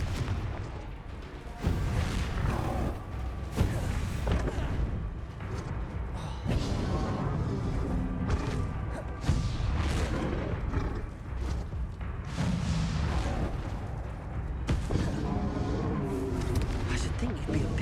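Booming spell explosions from the Confringo fire curse in Hogwarts Legacy, bursting repeatedly through a busy battle, loud and layered over constant game noise with a voice talking throughout.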